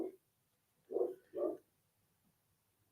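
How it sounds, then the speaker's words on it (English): A dog barks in short, muffled bursts, two close together and others at the edges, sounding somewhat distant with quiet pauses between. "You can't hear him barking?"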